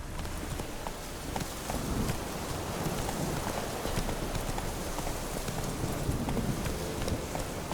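Roach the horse gallops in the Witcher 3 video game, a steady, rapid clip-clop of hooves at close range that continues throughout.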